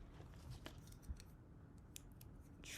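Quiet, close snips of scissors trimming embroidery thread, a few short cuts in near silence.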